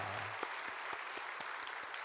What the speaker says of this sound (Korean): 격려하는 박수 하겠습니다